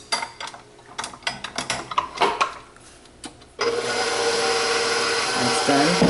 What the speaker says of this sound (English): now put this in my mixer and mix this up